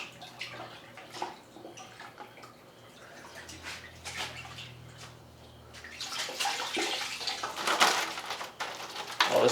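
Water is dumped from a pitcher onto a towel in a home absorbency test, with scattered drips and clinks building into a louder rushing pour and splash toward the end.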